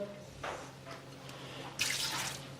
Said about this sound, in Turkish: ocağa almadan önce de yarım çay bardağı kadar su içerisine ekleyeceğim